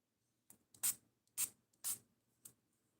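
Someone polishes a knife blade on diamond lapping film, making five short, soft rubbing strokes at an uneven pace. Quiet gaps separate the strokes, and no one speaks.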